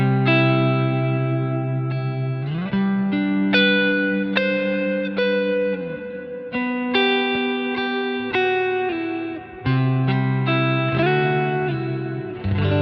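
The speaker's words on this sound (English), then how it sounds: "The other reverb that we have in here is the Dynamic Hall reverb," Electric guitar through a Line 6 Helix Dynamic Hall reverb on a vintage 1965 Fender Deluxe Reverb tone patch, playing sustained chords and single notes with long ambient washy tails, loud and alone with no talk.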